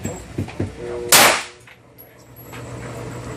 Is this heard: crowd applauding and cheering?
no